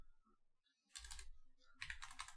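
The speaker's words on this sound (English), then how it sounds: "you just type in the distance" Quick bursts of computer keyboard typing as a distance value is entered, two short clustered runs of key clicks, close and fairly quiet with a brief pause between them.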